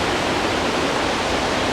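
Waterfalls pour down onto rocks in California, a loud, steady broadband roar of splashing water close by, with no voices.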